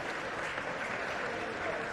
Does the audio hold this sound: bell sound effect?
no